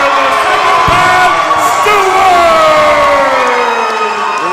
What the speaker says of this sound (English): There were a few boos out of the crowd